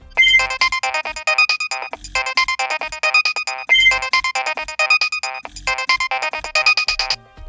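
A Nokia 6100 phone plays its built-in MIDI ringtone, a bright synthetic melody repeating in four even phrases with short gaps between them, loud and close with nothing else audible.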